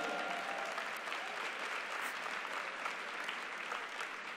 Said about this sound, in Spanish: y podemos dar un aplauso por la pantalla